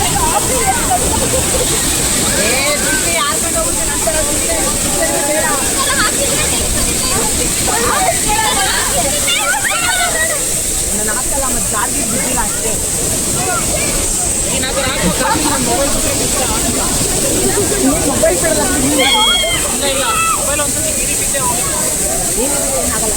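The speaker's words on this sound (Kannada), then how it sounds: "ಫಾಲ್ಸ್ ನೋಡ್ತೀರಾ ಗೈಸ್?" A waterfall at Kalasa in Chikkamagaluru pours with a constant broadband rushing roar. Voices and chatter from a group of friends are heard over it throughout.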